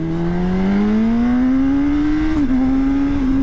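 A motorcycle on its first ride accelerates hard close by, its engine note climbing steadily through the gears with a brief dip partway before pulling again, loud and continuous with no talk.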